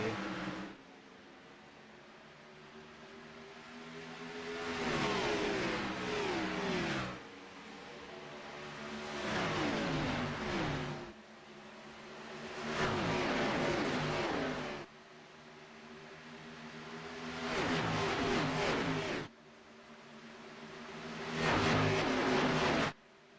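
Race cars at Indianapolis in a racing video game sweep past in repeated waves, each engine note building to a loud rising whine and then dropping back to a lower drone, with no talk.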